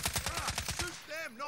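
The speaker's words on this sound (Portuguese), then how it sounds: "Tá vendo os tiros lá, ó? Os tiros vindo lá." Gunfire in the video game Call of Duty Warzone: a rapid burst of about ten evenly spaced shots, moderately loud, followed by a voice speaking briefly.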